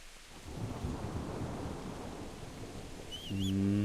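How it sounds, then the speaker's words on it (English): In the video game Kingdom Come: Deliverance, steady rain hisses under a low, rolling rumble of thunder that swells louder near the end, where a brief tonal sound cuts in. "It's raining."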